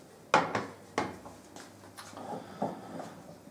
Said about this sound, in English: first get a ceramic pan